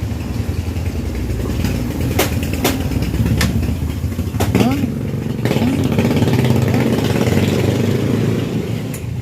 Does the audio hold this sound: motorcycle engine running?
yes